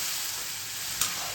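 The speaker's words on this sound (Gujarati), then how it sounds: "જીરું મૂકો ને બહુ સરસ વઘાર આવે" Cumin seeds dropped into hot oil for a tempering, a brief steady sizzle close by with a small crackle near the end, no voices.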